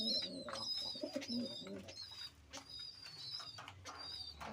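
Lakka fantail pigeons coo in a home loft, repeated soft throaty coos overlapping close by, with light rustling between calls and no voices.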